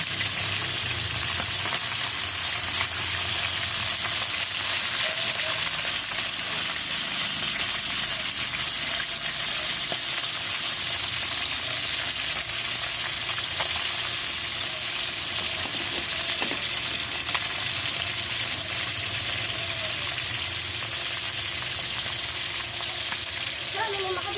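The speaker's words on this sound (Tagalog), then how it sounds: "piniprito ko po muna pala ang ating isda" Bisugo fish frying in a pan gives a steady, close sizzle with a constant bright hiss. It stays even for the whole stretch, with faint low kitchen rumble underneath and no talk.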